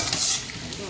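Green masala and tomato frying in a pan for a chicken dum biryani, a brief loud close sizzle with stirring scrapes.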